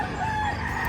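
Roosters crow at a busy chicken market in Mantalungon, Cebu, a brief burst of crowing over dense, continuous poultry clamor.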